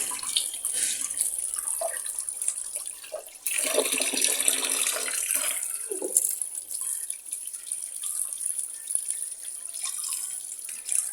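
Running tap water splashes over pangas fish pieces being washed in a sink, a steady close rushing stream with louder bursts and shifting splashes as the pieces are handled.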